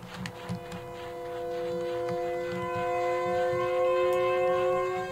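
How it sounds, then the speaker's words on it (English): A warning siren wails in the Siren Head video game, a steady rising and sustained tone that swells louder over several seconds, alone without talk, over a low pulsing hum. "Is that a warning siren? Where could it come from?"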